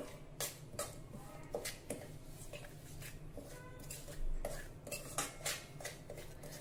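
A spoon mixes salt into a small batch of homemade pickle, clinking and scraping against the bowl in a quick, irregular series of light taps. The sound is quiet and close, with no talk.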